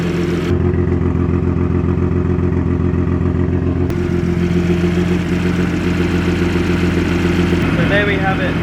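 A Daihatsu Mira's small engine runs on E85 at a steady idle after its injectors are flushed, a continuous, loud mechanical drone with a light clatter throughout.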